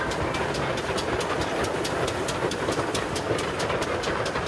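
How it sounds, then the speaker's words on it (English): A steam train passes with a rapid, regular chuffing beat over a low mechanical rumble, fairly close and steady, with no voices over it. "it's great you've got a steam train coming"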